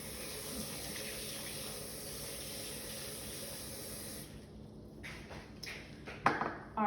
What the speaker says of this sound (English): And then run some cold water.